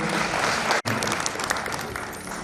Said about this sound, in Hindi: हाँ, जोर से ताली बजाएंगे।